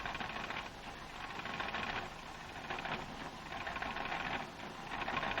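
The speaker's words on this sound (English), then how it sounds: "This semi-automatic stitcher is fed by hand from boards kept at a constant level." Semi-automatic box stitcher running in a paper mill, a steady mechanical clatter with a faint rhythmic pulse every second or so, distant and constant without speech.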